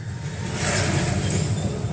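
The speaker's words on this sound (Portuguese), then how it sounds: "Oh, pera aí que esse caminhão vai vir tudo para cá." A truck drives past on a road during morning rush-hour traffic, its engine swelling loud and close for a moment as it goes by, then settling into a steady roar.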